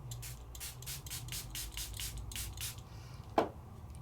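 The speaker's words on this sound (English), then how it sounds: "And I could even spray more" A spray bottle mists water onto glossy paper for an ink-blending craft, about ten quick rhythmic hissing squirts close by, followed by a single soft tap.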